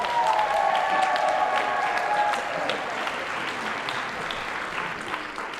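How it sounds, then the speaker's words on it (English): An audience at a school honor band concert applauds warmly, dense clapping that starts full and slowly tapers, with a few faint voices mixed in. "Can we give them another round of applause?"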